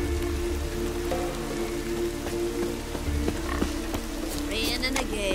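Steady rainfall in The Witcher 3 on Death March difficulty, a constant wash of drops hissing over low ambient rumble, with a croaking frog-like creature and faint game sounds layered on top.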